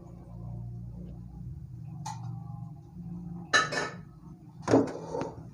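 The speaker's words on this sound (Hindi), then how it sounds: "और इसको अच्छी तरह मिक्स कर लेंगे।" A spoon stirs shalgam gosht, a turnip and meat curry, in a metal pot, producing a few sharp clinks and scraping knocks against the pot over a low background hum, with no talking.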